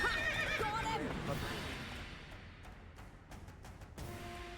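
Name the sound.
horse Roach neighing in video game The Witcher 3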